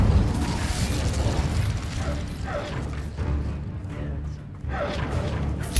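An Incendio fire spell effect in the Hogwarts Legacy video game: a rushing, crackling fiery burst with low rumbling and mechanical clanks, swelling and fading twice amid combat noise.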